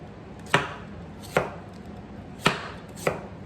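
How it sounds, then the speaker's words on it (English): Four sharp knife chops land on a cutting board at uneven intervals, slicing quartered ingredient thinly for miso soup; close and distinct with no talk. "And then just chop it thinly from there."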